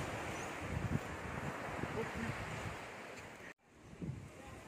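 Sea waves washing onto the shore, a soft steady surf with wind buffeting the microphone, fairly faint and continuous with a brief cut near the end.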